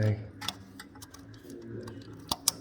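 A few small, sharp clicks and ticks of a connector on a Ford Mondeo oil pressure sensor stand out over low background noise, with one crisp snap near the end.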